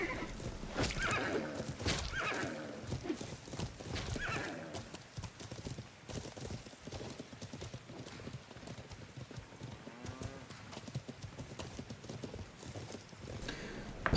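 Horse hooves from a cavalry charge in the medieval game Life is Feudal, a rapid, loud clip-clop gallop with whinnies and neighs over clashing battle noise, sustained throughout.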